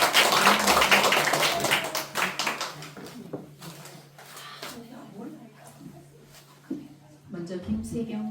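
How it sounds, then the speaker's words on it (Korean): An audience applauds at the 8th Hyeam Children's Literature Award ceremony in a seminar room at the Daegu Literature Museum: a loud, dense burst of clapping fades out over about three seconds, followed by a quieter room with a few scattered sounds and voices. "박수로 맞이해 주시기 바랍니다"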